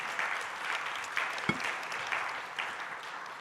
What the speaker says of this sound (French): Je pense qu'on peut l'applaudir quand même parce que c'est assez exceptionnel.